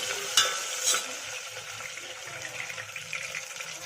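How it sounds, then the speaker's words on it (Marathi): Diced potatoes sizzle and fry in a pan for khichdi over a low gas flame, a steady close crackle with two sharper clinks of stirring near the start. "छान असं आलूला हे करून घेऊ, फ्राय करून घेऊ त्याच्यामध्ये छान।"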